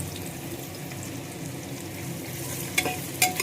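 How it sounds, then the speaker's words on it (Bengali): Chopped onions sizzle and fry steadily in a hot pan for a mutton curry, with a continuous crackle and a couple of sharper spatters near the end. "এবার পেঁয়াজগুলো ঢেলে দিলাম।"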